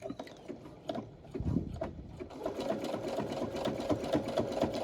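A sewing machine tacks a seam allowance down to the lining around the neck hole of a two-piece dance set, starting in short bursts and then settling into a steady, close mechanical stitching rhythm.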